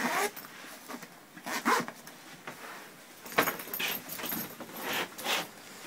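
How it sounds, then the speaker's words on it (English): Several quick zipping strokes from the zippers on a DJI Phantom drone backpack, close by, in short bursts separated by brief pauses, with no talking. "Two zippers, you see."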